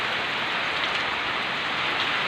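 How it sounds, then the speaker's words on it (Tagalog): Heavy rain pours down steadily in a garden with string bean plants, a dense, continuous hiss of drops striking surfaces at close range with no pauses. "Ayan, lakas ng ulan."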